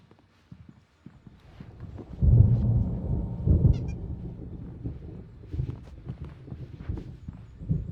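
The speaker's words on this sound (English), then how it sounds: "There's a storm coming. Oh, what a storm." A thunderstorm in Alan Wake Remastered: after a quiet start, a heavy low rumble of thunder rolls in, then fades into scattered clattering and thumping.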